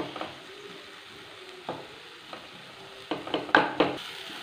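Chopped tomatoes and meat masala sautéing and being stirred in a pan for a bread and egg snack, a soft steady sizzle with occasional scraping stirs that grow busier toward the end, close and fairly quiet.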